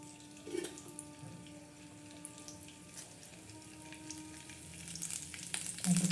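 Curry leaves and garlic crackling in hot oil in a kadhai for a tadka, a quiet, uneven sizzle that swells louder toward the end.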